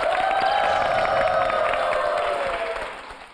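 Studio audience clapping on a TV talk show, fairly soft and sustained under a steady tone and light music, fading away toward the end.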